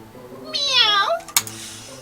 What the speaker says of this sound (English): Oh, it's just a cat, huh?